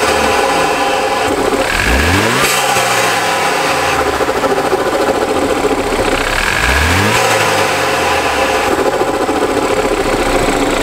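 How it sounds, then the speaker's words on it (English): A BMW F30 pulls hard while driving, its engine rising and falling through two strong acceleration sweeps with a turbo whistle over a loud, steady in-cabin drone. "You can just hear the turbo spooling now"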